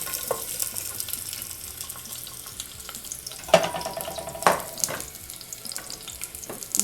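Sliced medium-size onion sizzling in hot oil in a pot for one-pot broccoli rice, a steady moderate frying hiss with a couple of sharper crackles and clatters partway through.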